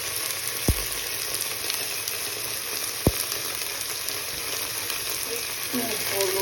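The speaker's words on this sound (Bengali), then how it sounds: "দেওয়ার পরে গরমে ভাজতে থাকলাম" Turmeric and spices fry in hot oil for an egg and potato curry, a steady close sizzle broken by two sharp knocks, likely a spoon against the pan.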